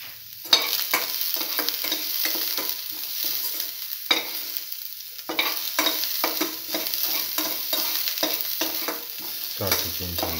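Garlic sizzling and frying in a pan for an eggplant stew, a steady crackle broken by repeated stirring scrapes, with a brief pause partway and a low thump near the end.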